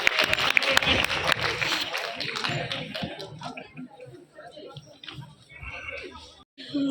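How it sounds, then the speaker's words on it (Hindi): An audience claps loudly at a small speech event or program, dense broadband applause in the first few seconds that thins and fades as murmuring voices continue. "तालियां बजाइए जोरदार"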